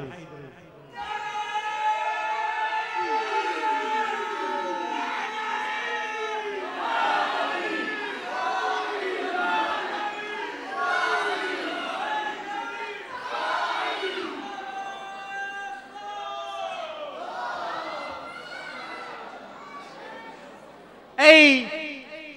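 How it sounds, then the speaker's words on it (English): A crowd at an Eid al-Ghadeer gathering shouts the Nara-e-Haideri chant in loud, overlapping voices that rise and fall in waves for about twenty seconds, ending in a sharp burst of noise. "can I please get one of the Pakistanis in the crowd to give me the loudest of Nara Haideris?"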